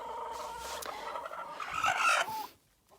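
Hens cluck loudly inside a farm henhouse, a close, agitated chorus that swells near the end and then stops abruptly.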